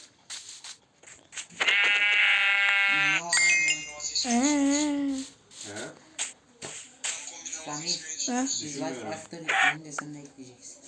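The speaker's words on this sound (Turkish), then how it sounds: "Gel lan buraya koyun." Minecraft sheep bleat several times in quick wavering cries, mixed with game chimes and effects while a voice talks over them.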